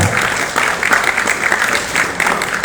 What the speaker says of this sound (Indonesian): Tepuk tangan untuk Kabupaten Bangkalan dan KPK.